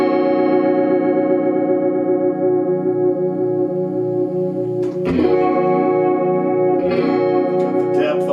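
Electric guitar chords ring through a Fender Jam amplifier with chorus set to maximum depth and low rate, giving a slow, wavering shimmer that swells and pulses, loud and sustained with a new strum partway and near the end.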